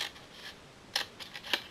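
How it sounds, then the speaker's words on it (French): Scissors snipping paper tabs on a scrapbooking box, following a fold line: a few quick, crisp cuts, close and fairly faint, spaced out with no talking. "On va utiliser les ciseaux pour venir détacher les 2 linguettes par ici et ensuite à l'opposé."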